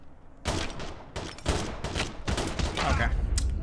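Rapid gunfire bursts from the mobile video game Call of Duty Mobile during a 1v1 duel, loud and close, with several quick volleys in a row.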